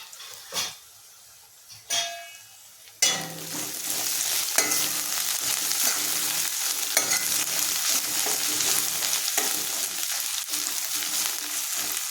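Onions frying in a pan for prawn and okra pulusu, a few spoon scrapes, then a strong continuous sizzle with intermittent stirring clinks running steadily for several seconds.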